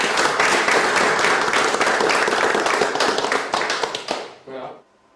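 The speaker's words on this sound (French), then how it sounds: "on l'applaudit" A workplace audience applauds a prize winner at a company award, dense clapping sustained for about four seconds, then thinning out and fading to silence.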